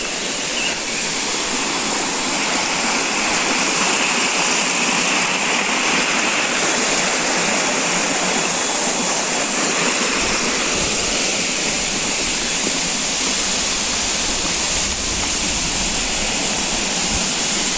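Steady rushing river water beside a church pilgrimage path in the rain, a continuous broad roar of flowing current filling the scene, loud and unbroken with no voices.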